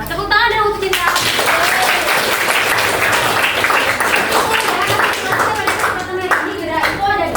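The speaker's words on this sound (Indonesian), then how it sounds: "tepuk tangan dong untuk Cinta" A classroom of students at an Indonesian madrasah claps together for a classmate, dense steady applause lasting several seconds with some voices of children mixed in near the start and end.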